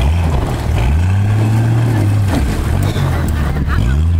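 A Jeep Cherokee is driven hard on an off-road park trail, its engine roaring loudly and close, revving up and down in quick swells with rough road noise and a brief voice underneath.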